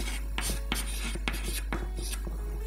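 Quick scratchy strokes of a word being written on a board, several short bursts in an uneven rhythm over a low steady background hum.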